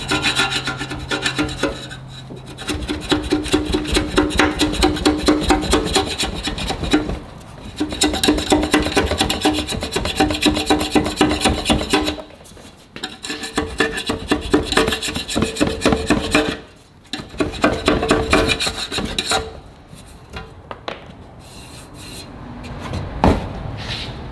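A gasket scraper rasps old gasket material off a Nissan Titan transmission pan in long, loud, close scraping runs, pausing briefly between strokes before resuming.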